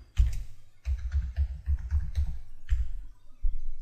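A password is typed on a computer keyboard, with a quick close run of key clicks in short bursts and brief pauses, no voices.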